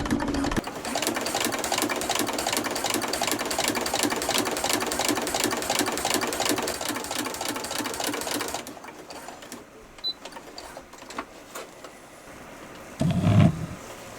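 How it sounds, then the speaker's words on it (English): Sewing machine with a ruffling foot stitching a ruffle onto flat fabric, a fast rhythmic steady run for about eight seconds, close, then stopping to quiet handling noises. "there is my ruffle stitched onto my flat piece of fabric"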